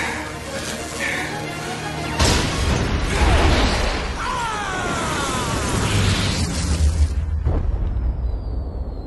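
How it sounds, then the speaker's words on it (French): An explosion booms in the Grinch movie's car chase after a small stolen car causes a crash. A sudden loud burst is followed by rumbling, crackling debris and action-scene clatter, with some voices. "il cause un mini accident, puis ça fait une explosion comme on voit dans les films d'action"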